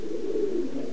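A homing pigeon coos in a single soft, low, sustained call, close and clear against a quiet background.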